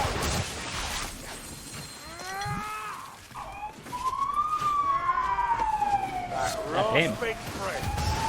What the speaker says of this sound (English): Them sirens.